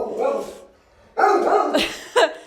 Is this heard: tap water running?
no